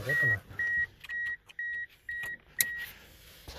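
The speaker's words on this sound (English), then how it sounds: "It's beeping because I don't have my seatbelt on." A car's seatbelt warning chime beeps in a steady series of six evenly spaced tones, fairly close, with faint background noise and no speech.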